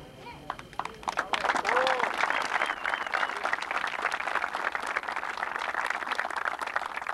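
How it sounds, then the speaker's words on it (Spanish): Sustained applause from a crowd at a tournament inauguration, a dense wash of clapping that swells quickly and holds steady, with some voices mixed in. "les quiero pedir a todos ustedes que les brinden un aplauso"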